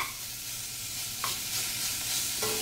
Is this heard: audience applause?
no